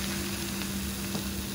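Steady hot-oil sizzling and crackling of chicken frying for ayam geprek, loud and continuous with a faint hum underneath.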